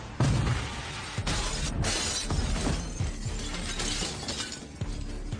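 Glass shattering sound effect in a hotel setting as windows break: a loud burst of crashing, clattering debris that continues densely for several seconds, alone with no voices.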